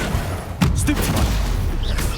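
A Stupefy spell is cast in Hogwarts Legacy, a sudden magical burst and impact over a busy backdrop of combat effects, with a voice speaking over it.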